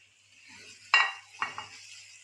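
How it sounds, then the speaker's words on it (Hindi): Chopped onions, three medium ones, are stirred into a mutton karahi, giving a couple of short scraping clinks of a spoon against the pan over a faint background hiss. "अब मैंने लिए थे 3 मीडियम साइज के प्याज, उसको मैंने चॉप कर लिया था, वो इसमें शामिल करेंगे। इसको एक बार हिला लेंगे।"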